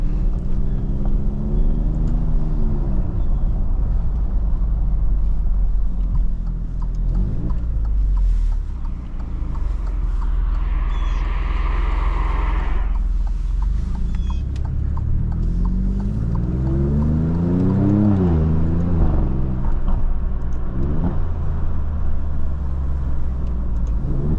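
A 2020 Alfa Romeo Stelvio Quadrifoglio, an all-wheel-drive performance SUV, cruising on the road, with engine tone climbing and dropping through shifts over steady road and wind noise, heard close from the cabin without speech.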